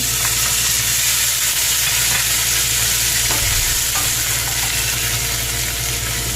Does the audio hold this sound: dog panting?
no